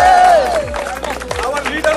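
An audience at a company headquarters inauguration in Chennai applauds in a short, busy burst of clapping and cheering mixed with voices and crowd noise.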